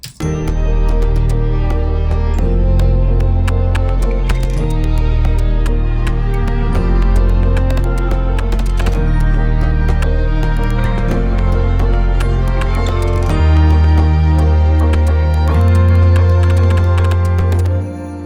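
Loud electronic track with stuttering clicks and glitchy percussive bursts over a steady bass pulse, playing continuously without vocals.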